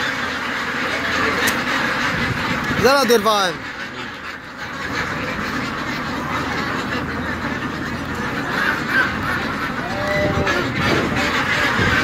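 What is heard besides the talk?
many ducks quacking at a duck farm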